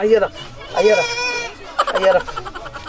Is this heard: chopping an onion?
no